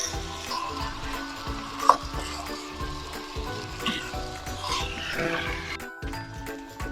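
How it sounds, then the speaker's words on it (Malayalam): Yogurt is stirred into aviyal, a Kerala mixed-vegetable curry, in a pan. A soft, continuous sizzle carries occasional scraping from the spoon and one brief clink near the start. "ഒന്ന് ഇളക്കി ചേർക്കുക."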